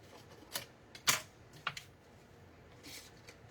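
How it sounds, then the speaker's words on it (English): A paper trimmer slices card stock in a quiet room, making a few brief crisp clicks and a sharp snap as the blade passes, spaced irregularly and close. "I'm gonna trim this."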